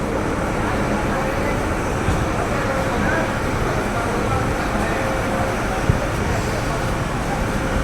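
The Mahananda commuter train, in a vacuum-type coach between Khulna and Jessore, gives a constant, loud rumble from inside, with an even roar and occasional faint clunks throughout.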